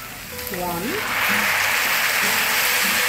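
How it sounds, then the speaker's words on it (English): A steady, broadband sizzle of bhaji frying in a hot pan, with a brief voice near the start before the crackling settles in loud and continuous. "You hear that sizzle?"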